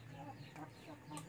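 A backyard flock of three hens and a rooster cluck softly in a simple coop, a few short quiet calls over faint low background hum.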